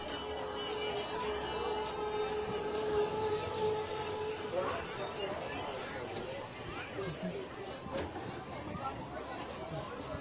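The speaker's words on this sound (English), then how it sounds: "watch the tram car." A boardwalk tram car at Wildwood rolls past with a rumbling mechanical drone and a brief whistle-like tone, amid crowd chatter and voices nearby.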